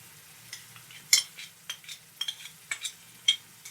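Yogurt is stirred into a curry in a pan, giving a series of soft scraping and squelching strokes with a light sizzle underneath, close and moderately quiet.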